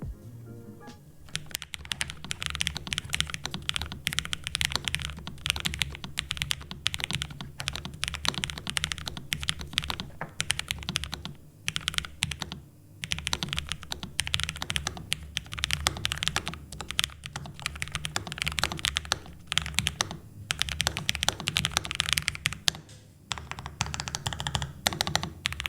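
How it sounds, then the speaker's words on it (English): Steady, rapid typing on a computer keyboard, with dense clicky keystrokes continuing for a long stretch at close range. "Let's find out with a typing test."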